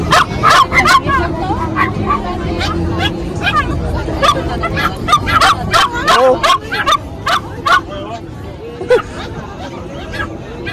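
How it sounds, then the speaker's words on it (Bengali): Several dogs bark and yip in quick, overlapping bursts at a crowded outdoor dog market, loud and close, over a constant babble of people talking in the background. "কুত্তাগুলো দেখুন"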